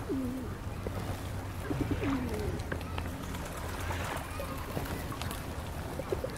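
Soft bird calls, including low cooing notes, come in short bursts over a busy outdoor background with some movement and chatter.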